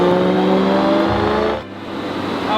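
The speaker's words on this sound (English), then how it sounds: "followed by warming the engine up and the gearbox on the dyno" BMW E92 M3 engine warming up on a dyno, a loud steady mechanical drone that briefly rises in a rev and then settles to a lower idle, heard alone without voices.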